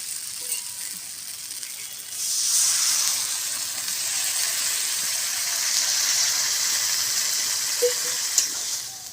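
Water poured into a hot pan of spiced cabbage sets off a sudden, louder steaming hiss after a quieter sizzle, then settles into a steady bubbling fry with a couple of faint clinks.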